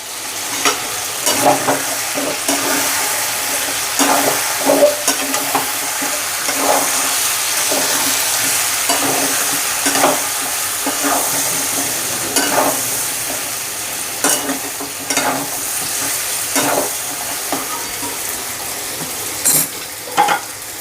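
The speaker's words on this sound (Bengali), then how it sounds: "এবার এটাকে নেড়ে দেবো" Chicken with chicken masala is stirred in a pan, a series of loud, irregular scraping and clattering spatula strokes over a bubbling, sizzling base, close up and with nobody speaking.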